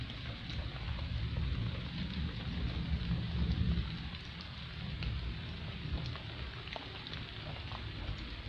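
Rain falls steadily outdoors with a low rumble of thunder swelling and fading in the first half, dense and continuous, no voices.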